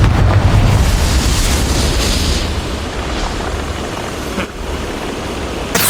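A Confringo fire spell bursts in Hogwarts Legacy as a loud, rumbling blast that rolls and slowly fades over several seconds, with a brief thud near the end and no talking.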